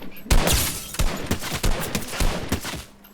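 Gunfire in the Fortnite video game: rapid bursts of automatic shots crackle loudly in quick repeated volleys, with no talking.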